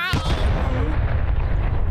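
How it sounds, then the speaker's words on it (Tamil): A cartoon cup blows up with a sudden loud boom that trails into a rumbling, crackling decay, and a brief voice is heard just before the blast. "அந்த கப்பு வெடிச்சிருச்சு"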